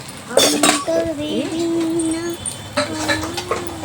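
Maggi noodles are served into a bowl in a home kitchen with a few bright clinks of metal utensils against dishes, while someone talks over the clatter.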